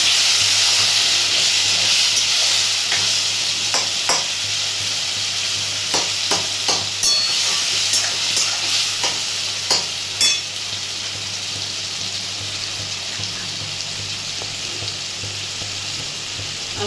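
Washing water from a sweets bowl poured into a frying pan holding poppy seed and green chili paste for moong posto, giving a steady loud hiss and sizzle with scattered stirring clicks that fade after about ten seconds, no talk.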